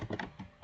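Someone types a command on a computer keyboard, a quick short burst of several soft, close key taps in a quiet room.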